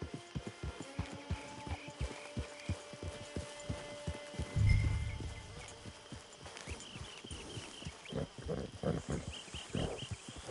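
Horse in the video game Red Dead Redemption 2, hooves clopping in a steady rhythmic walk throughout, with snorts and animal vocal sounds, a brief louder burst midway, and game ambience behind.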